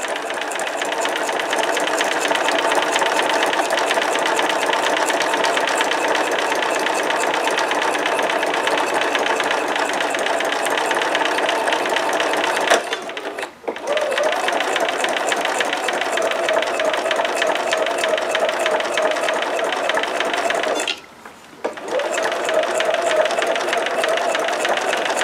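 A sewing machine stitches fabric in long continuous runs, a loud, even mechanical buzz that stops twice briefly before starting again.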